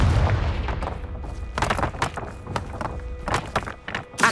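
Confringo fire spell blasts in the Hogwarts Legacy video game land as a rapid series of booming, thudding bursts, loud and close, in an irregular rhythm with no talk.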